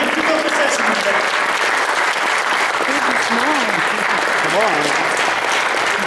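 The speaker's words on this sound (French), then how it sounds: "je vais l'applaudir plus fort que ça" Sustained audience applause at a comedy show during an on-stage marriage proposal, a loud continuous roar of clapping with voices rising and calling out above it.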